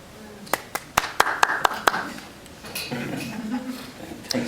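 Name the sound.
audience clapping after a poem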